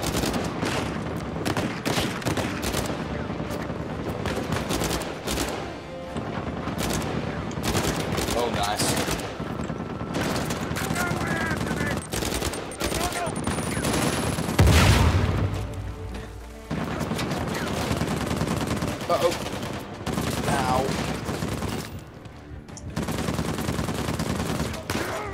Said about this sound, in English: I know there's a sniper. I can see and hear.